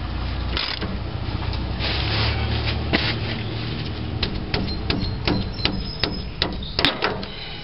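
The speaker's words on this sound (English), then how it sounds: "now let's get this puller on here and just crank down on it" A tie rod end puller is cranked down on a Toyota truck's steering, giving repeated sharp metallic clicks and knocks at an uneven rhythm over steady background noise, close and fairly loud.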